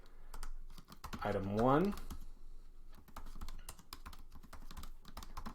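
Rapid, close clicks of typing on a computer keyboard run throughout, steady and fairly quiet, while someone speaks briefly over them.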